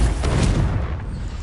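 A Confringo blasting spell from Hogwarts Legacy bursts into a loud, close, rumbling explosion whose broad roar decays over about a second.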